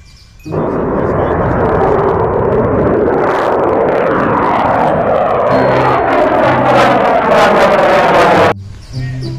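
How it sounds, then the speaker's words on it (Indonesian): Loud, sustained roar of a fighter jet engine, steady and broad for about eight seconds with a rising whine and sweeping tonal bands, cutting off abruptly near the end. "Di sini ada pesawat tempur."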